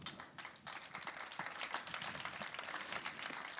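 An audience at a lecture gives a sound technician a loud round of applause, a dense and steady patter of many clapping hands that fills the room for the whole stretch.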